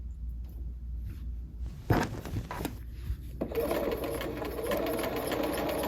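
A sewing machine stitching a seam on a swimsuit cover-up, with a few brief handling clicks and then a close, steady whirring run of rapid stitching.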